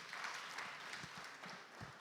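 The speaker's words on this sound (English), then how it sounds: "A round of applause for him" A seated audience applauds the Minister of Livestock Development at an African agriculture dialogue session, with faint, steady clapping continuing throughout.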